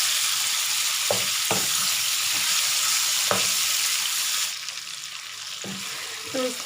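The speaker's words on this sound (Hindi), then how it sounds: "तो इसको मुझे फ्राई करना है गोश्त को" Chicken pieces frying in oil in a pan for shahi korma, a loud continuous sizzle with occasional stirring knocks, easing slightly near the end, no talk.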